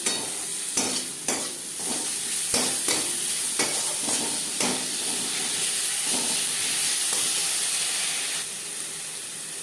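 Onion with salt, ginger and green chilli paste stirred and fried in a pan for an eggplant and fish-fat chorchori, with steady loud sizzling broken by repeated scraping stir strokes, no talk.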